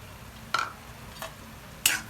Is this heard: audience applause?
no